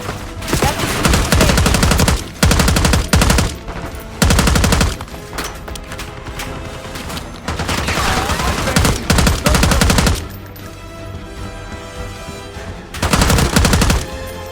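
Rapid automatic gunfire in the Call of Duty Black Ops 6 campaign comes in loud, dense bursts, with short pauses between volleys and a steady din of combat underneath.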